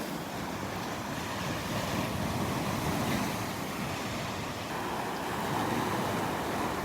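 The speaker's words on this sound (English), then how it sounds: "I think the waves are actually just a little bigger" Ocean waves break on Delnor-Wiggins beach in Naples, Florida, a continuous broad rushing wash with heavy wind buffeting the microphone, steady and loud with no talking.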